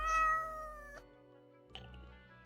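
A cat meows in the Death and Taxes video game, a single drawn-out call that cuts off abruptly, followed after a short pause by a second, fainter mew over a steady low hum.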